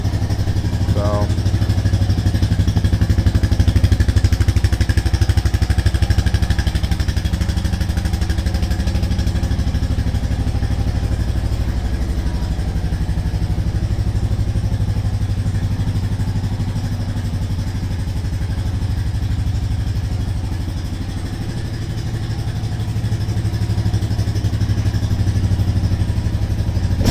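2022 Honda Rancher 420 ATV engine idling steadily after starting, a continuous close low throb with a faint clatter, holding steady for the whole stretch.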